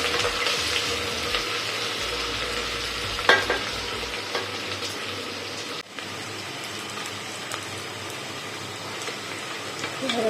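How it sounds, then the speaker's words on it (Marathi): Onions and potatoes being sautéed in a pan for peas pulao, a steady low sizzle with stirring scrapes and a few clinks of a spoon on the pan, with occasional faint talk. "असं चांगला परतवून घ्यायचा आहे"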